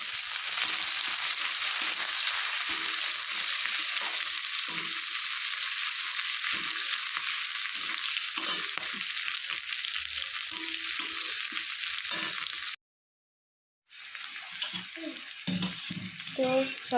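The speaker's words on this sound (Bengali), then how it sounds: "তো সব কিছু ভাজা ভাজা হয়ে গেছে" Chopped ginger and green chillies fry in oil and are stirred, a steady close sizzle with occasional scraping strokes, cut by a sudden second of silence before the frying resumes.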